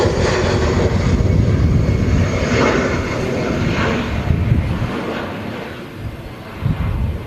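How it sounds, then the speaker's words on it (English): EasyJet Airbus A319 airliner taking off at Manchester Airport, a loud sustained jet engine roar with deep rumble that slowly shifts and begins fading toward the end, no talk. "Nice, an early rotation there on the EasyJet."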